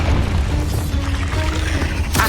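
Confringo fire blast spell in Hogwarts Legacy inside a cave, a loud sustained booming rumble filling the clip with a sharp burst at the very end.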